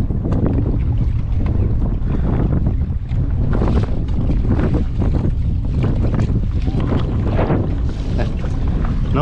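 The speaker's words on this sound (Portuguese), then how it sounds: "Hoje é o vento." Wind and choppy river waves buffet a kayak rigged for sailing on the Paraguay River in the Pantanal, a steady loud rush of gusts and water slaps with heavy wind noise on the microphone throughout.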